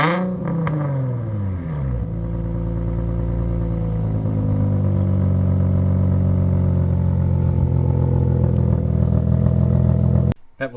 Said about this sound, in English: This has a catback exhaust system, so it's a catalytic converter and then a single pipe that splits into a double with no muffler